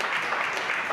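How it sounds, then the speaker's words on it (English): Dense audience applause after audience questions at a debate event, a continuous, even roar of many hands clapping throughout the brief moment. "Give them a round of applause."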